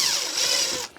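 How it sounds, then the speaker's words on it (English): A power drill bores a 1/8-inch hole through a metal lid of a glass jar in a workshop, giving a loud whirring, grinding burst that stops abruptly near the end. "What I'm going to do first with every lid is screw or drill"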